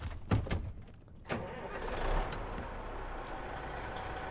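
A truck engine in a factory-building video game rumbles steadily under a couple of clunks near the start, a low continuous drone with a slight rise in revs before settling into an even hum.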